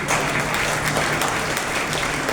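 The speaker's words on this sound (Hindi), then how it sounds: "हालांकि सोच के लिए ये तालियां कमजोर थी" An audience applauding at a speaking event in Kashi, steady sustained clapping from a large crowd at an even, fairly loud level throughout.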